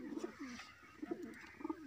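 Pet flying pigeons coo close by in low, throaty phrases, three soft repeated bursts with short pauses between, and no talking.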